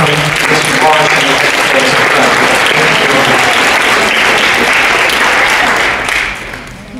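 Large school audience applauding to welcome a guest as he speaks to Savannah students, a loud, dense sustained clapping wash filling the whole stretch before fading near the end, with some voices mixed in early.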